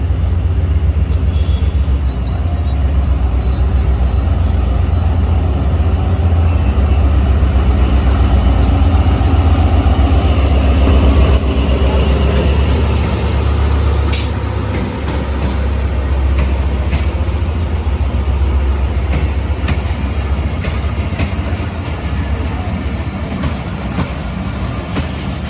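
A train approaches and passes close by, its loud, continuous rumble and rhythmic clickety-clack of wheels filling the whole stretch and swelling slightly midway before staying steady to the end.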